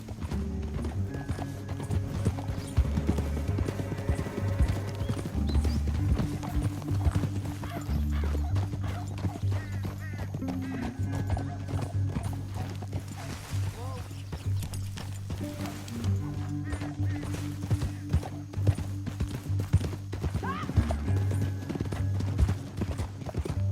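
Horses gallop in Red Dead Redemption 2, steady hoof clatter under a dense bed of music and game sound, with an occasional whinny and faint voices.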